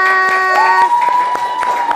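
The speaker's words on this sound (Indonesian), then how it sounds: "Tepuk tangan buat kita semua." A class of schoolchildren claps rhythmically together at the end of a lesson, the regular crisp claps running over a steady tonal hum throughout.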